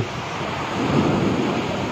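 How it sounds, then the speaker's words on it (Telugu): Thunder rumbles low under heavy, wind-driven rain in Vijayawada, a dense steady downpour that swells briefly louder midway. "మెరుపులు, ఉరుములు."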